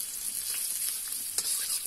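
Onions fry in a pan for a water chestnut curry, giving a steady close sizzle with light crackles and a brief stir near the middle; no one talks.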